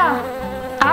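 A bee buzzing in a children's animated story, a loud close insect drone with a wavering pitch that swoops as it passes, alone without talk.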